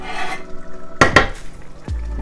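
A spoon stirs spicy Georgian beef stew (chashushuli) in a boiling pot, giving two quick scraping knocks against the pot, then a soft clunk, close and clear, with no talk.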